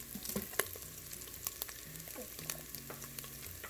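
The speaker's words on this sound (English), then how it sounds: "we're going to start cooking the sausage" Sausage crisping in an Instant Pot, a steady close sizzle with a few sharp scrapes and clicks of stirring scattered across it, no talk.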